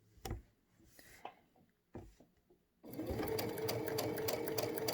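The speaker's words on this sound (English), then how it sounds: "I can take my project and line that light up going corner to corner, and I can start to sew" A Baby Lock Crescendo sewing machine stitches a quilt. A few soft taps and handling knocks come first, then the motor starts up into a steady, loud, continuous whirring run of stitching for the last two seconds.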